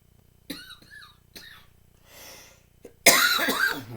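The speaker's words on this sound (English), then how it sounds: "It seems like when I talk, I cough more." A person coughs several times, a few short dry coughs and throat sounds spaced apart, followed by a louder, harsher cough close to the microphone.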